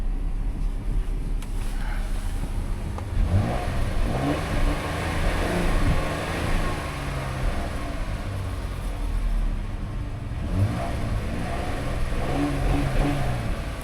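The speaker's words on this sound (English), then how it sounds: "Motor sounds okay." A used car's engine runs steadily while driving, a mid-pitched drone that rises and falls with several surges of acceleration, loud and continuous with road rumble underneath and no talking.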